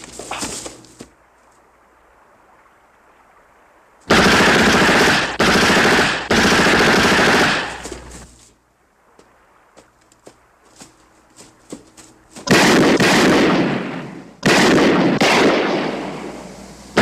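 Rapid automatic gunfire erupts in a gunfight, several loud sustained bursts of shots separated by quieter stretches with scattered single cracks and faint movement.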